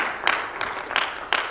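Congregation applause at a church sermon, a few loud claps standing out over a quiet background in a short burst.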